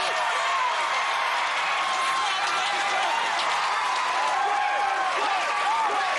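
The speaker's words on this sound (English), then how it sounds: "And the crowd chanting her name. Everybody's yelling her name." A large crowd at an American Ninja Warrior qualifying event in Dallas cheers and chants a competitor's name, a dense, continuous roar of voices and clapping filling the arena at high volume.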